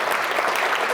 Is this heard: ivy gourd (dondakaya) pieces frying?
no